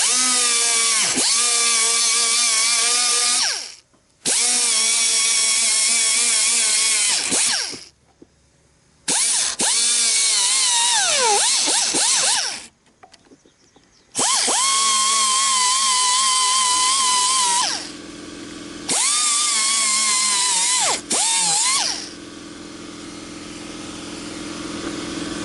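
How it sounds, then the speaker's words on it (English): A power tool grinds on the door handle panel of a Dodge Neon SRT4, loud whining bursts of several seconds each that start and stop repeatedly, with pitch dropping under load and brief quiet gaps between them. "We're just going to grind these."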